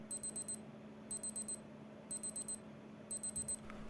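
A Casio G-Shock DW-5610 digital watch sounds its countdown timer alarm: four rapid high-pitched electronic beeps in a burst, repeated four times about once a second, clear and close over faint background hum.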